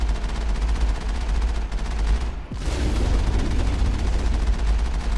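Heavy, continuous battle noise from a tank in the video game Mass Effect, a dense rumbling roar with a sharp boom of the main gun firing partway through, loud and close with no talk.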